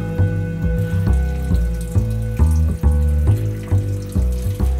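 Water and oil drain from a Bernard W110 motor in a steady trickling pour with repeated splashing surges and gurgles, close and alone.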